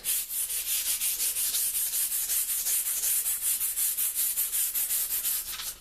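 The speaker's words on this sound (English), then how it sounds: "So I'm just going to lightly sand it." Sandpaper rubs lightly over a Revell model of the ship SMS Dresden in fast, even back-and-forth strokes, a steady close hissing rasp with no talking.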